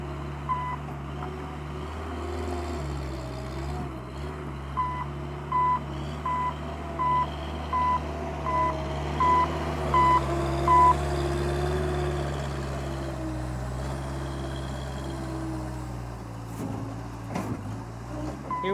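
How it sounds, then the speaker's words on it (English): A Bobcat skid-steer loader arrives to load material, its reversing alarm beeping steadily for several seconds over a constant low rumble of truck and machine engines. "Here comes the bobcat."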